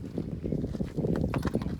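The hooves of a draft horse mare clop close by in an uneven walking rhythm, moderately loud with no voices.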